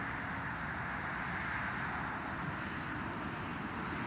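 Woodgate Aviation patient transport aircraft, registration G-NIAA, at Newcastle Airport gives a steady, continuous engine roar from a moderate distance, broadband and even throughout with no talk over it.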